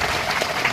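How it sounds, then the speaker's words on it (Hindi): Applause from an audience welcoming guests at a statue installation ceremony for Tantya Bhil in Madhya Pradesh, a short burst of dense clapping. "इनका भी जोरदार तालियों से स्वागत करो भैया लोगों का"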